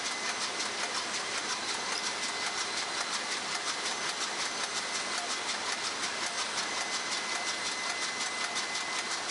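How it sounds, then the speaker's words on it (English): A used Yanmar 6LY2A STP marine diesel engine runs steadily at close range, a dense, constant mechanical drone with fine rapid ticking throughout and no voices. "a smaller marine diesel can finally breathe. The Yanmar 6LY2A STP offers a demonstration of a used marine engine returning to work."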